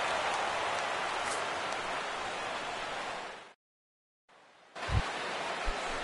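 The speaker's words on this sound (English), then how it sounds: "Rain continues to fall here in the 6th." Rain falls over a ballpark in a baseball video game, a steady broadband hiss that cuts out briefly, then returns with a couple of low thumps.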